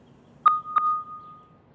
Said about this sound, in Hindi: अंकुर जरा देख तो क्या मैसेज है